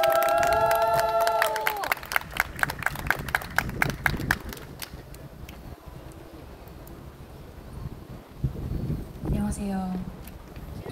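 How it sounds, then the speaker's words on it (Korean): A crowd at a New Zealand protest rally calling for Yoon Suk-yeol's arrest claps and cheers after a voice on the microphone, with sharp scattered claps that thin out and fade, then voices rise again near the end. "큰 박수 한번 부탁드리겠습니다."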